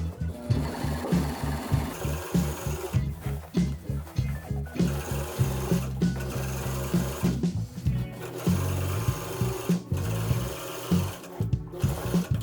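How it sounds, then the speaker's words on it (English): A sewing machine top stitches the center seams of a pinafore dress, with a close, rapid mechanical stitching rhythm running in bursts with short pauses throughout. "Top stitch each side of the center seams, always checking if the seam allowance are separated at the bottom."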